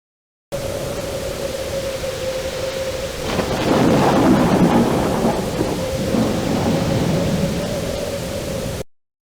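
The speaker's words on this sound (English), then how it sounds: "A cold rain began, driving in sheets against him. Thunder rattled every pin in his wooden body" Storm scene in the 1992 PC/Mac Pinocchio game: a continuous hiss of rain with a steady tone beneath, broken by a loud rolling thunderclap that swells and slowly fades.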